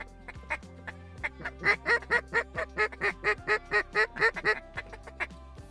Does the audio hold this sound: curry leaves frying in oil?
no